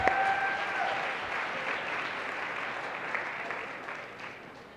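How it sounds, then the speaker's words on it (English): An audience applauds two award winners at a student affairs event, steady dense clapping that holds fairly even for the whole stretch and fades slightly toward the end, with no voices over it. "Give a big round of applause for both Paul Gordon Brown and Ed Cabellon."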